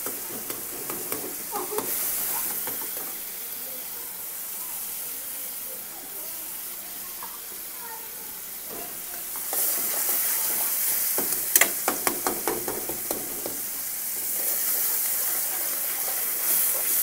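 Tomatoes cook in a pan for lotus root sabji, giving a steady broadband sizzle and hiss that swells louder midway, with scattered scraping stir clicks and no talking.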